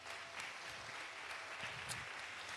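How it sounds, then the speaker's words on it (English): Sustained audience applause at a poetry slam, a steady wash of many hands clapping throughout with no voices on top. "Please give her a round of applause."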